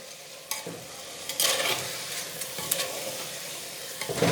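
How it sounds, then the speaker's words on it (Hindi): Spoon stirring spices into chicken frying in a pot for haleem, giving steady sizzling with scraping strokes, close and moderately quiet, with no talking. "इसे अच्छे से मिक्स कर लेंगे।"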